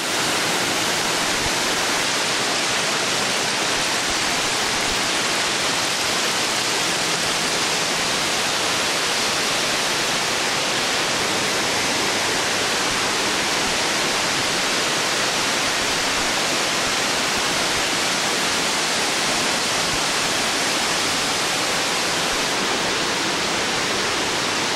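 Waterfall at an outdoor dining spot, a steady, dense roar of falling water, loud and unbroken throughout with no voices.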